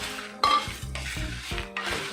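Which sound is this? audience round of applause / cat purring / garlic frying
garlic frying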